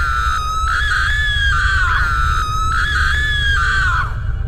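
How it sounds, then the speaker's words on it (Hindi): A cartoon witch in a Hindi horror story shrieks loudly, two long wavering high-pitched screams in a row, close and harsh over a low rumbling backdrop. "वो चुड़ैल चिल्ला रही होती है"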